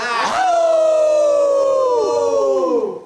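A siren sweeps up sharply, then holds a long, slowly falling wail before fading out, loud and close.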